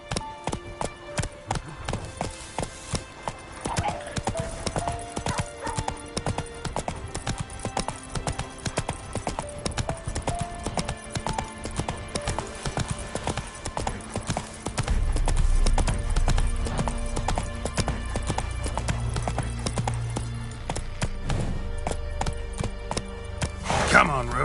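Roach the horse gallops in The Witcher 3, hooves pounding in a rapid, continuous clip-clop rhythm, joined by a whinny, game music and occasional voices talking over the run.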